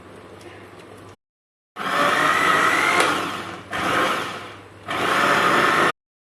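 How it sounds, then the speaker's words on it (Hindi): A blender whirs loudly grinding spinach in a few bursts with short pauses between them, after a quieter mechanical hum and a brief silence. "अब हम एक ब्लेंडर जग लेंगे, इसमें इसको पीस लेंगे।"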